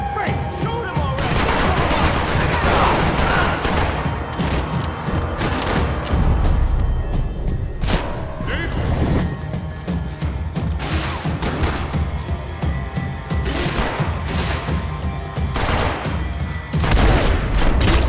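Heavy gunfire in the Max Payne 3 game, dense volleys of loud shots and bursts with booming impacts rolling almost continuously, with voices shouting now and then between them.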